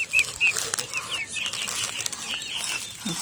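Chickens and ducks flap their wings in quick fluttering bursts, with a few bird chirps near the start, close and lively with no talking.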